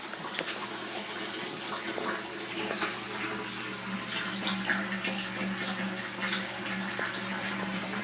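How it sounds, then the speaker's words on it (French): Water pours steadily through a pipe elbow into a round aquaponics fish tank, a continuous splashing, gurgling flow at moderate distance with no breaks. "l'eau est envoyée par un coude comme ça pour permettre une rotation de l'eau"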